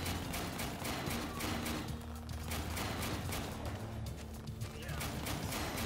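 A cannon turret in the video game War Pips fires shell after shell, a dense rapid run of sharp booming blasts mixed with other battle noise, continuous and fairly loud throughout.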